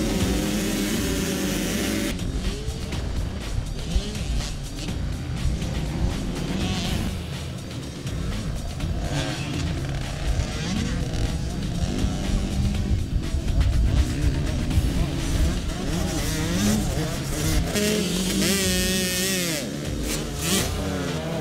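Motocross motorcycles racing on a muddy track, their engines revving and whining continuously, rising and falling as bikes pass at varying distances, loud throughout.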